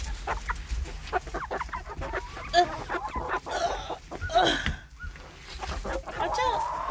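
Chickens cluck and murmur close by in a steady, busy chorus, with occasional sharper squawks and some rustling.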